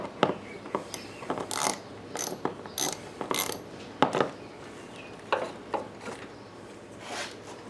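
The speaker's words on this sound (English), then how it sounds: "10mm and loosen up your clamp on your positive side." Sharp metallic ratcheting clicks come in short bursts from a 10mm wrench loosening the positive battery terminal clamp on a Honda Odyssey, close up and irregular with pauses between strokes.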